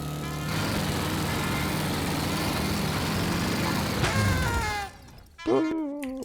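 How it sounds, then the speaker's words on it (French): A riding lawn mower in a video game drones loudly and steadily for several seconds, then the engine note shifts and cuts off, followed by a short warbling electronic tone. "Oui, je conduis une tondeuse."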